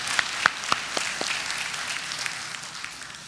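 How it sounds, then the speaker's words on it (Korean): A church congregation gives a round of encouraging applause, opening with a few distinct, fairly close claps that quickly blend into a softer, fading patter of many hands. "그리고 옆에 있는 분들한테 격려의 박수 한번 보내주시죠."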